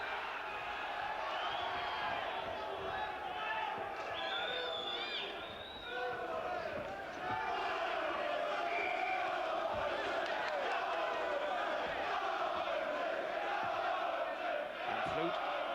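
A crowd at a 1994 boxing title fight between Neville Brown and Andy Flute sings and chants loudly and continuously, filling the arena with a distant, sustained roar while a commentator talks over it.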